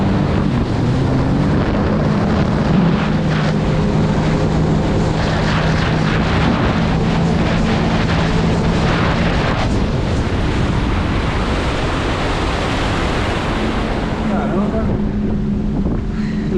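A jet ski accelerating hard across open water, its engine a loud, steady, close roar with heavy wind buffeting and rushing spray throughout.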